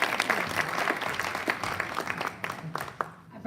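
An audience claps and cheers in a steady, lively burst as soloist Kelly Corsino is welcomed, with the clapping tapering toward the end and a voice speaking over it.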